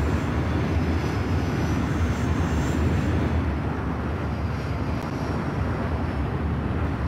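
A jet aircraft engine in the video game Ace Combat X2, a loud constant roaring drone that fills the whole stretch with no break, alone without talk.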